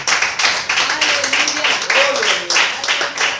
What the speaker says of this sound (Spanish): Démosle una ofrenda de palmas a nuestro Dios,